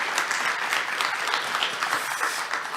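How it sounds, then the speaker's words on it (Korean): Audience at a conference claps steadily, a dense patter of many hands holding at an even, moderate level for the short stretch. "다시 한번 큰 박수 부탁드립니다"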